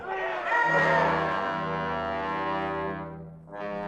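Agitated crowd in a radio drama about a spaceship landing lets out a swelling roar of many voices, rising to a loud peak and then holding, briefly dipping before surging again.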